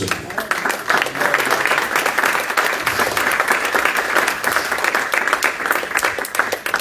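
A church congregation applauding during a worship service, sustained dense clapping that carries on at an even level for several seconds, with voices mixed into the crowd.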